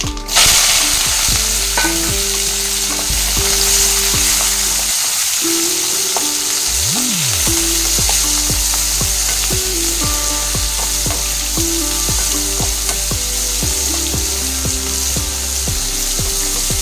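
Onion, coriander and curry leaves fry in a pan for an ivy gourd stir fry, giving a loud, steady sizzle with scraping and stirring knocks throughout and a low hum underneath.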